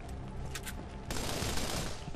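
A rapid-firing gun in the video game Borderlands sprays ammo. A few sharp shots crack out, then a dense, loud, continuous burst of automatic fire follows.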